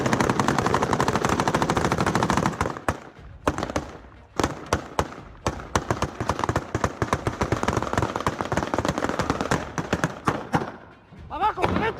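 Rapid bursts of semiautomatic gunfire ring out in a street in Celaya, a dense barrage of sharp cracks over about three seconds, then scattered and clustered shots continuing, loud and reverberant, with faint voices in the background.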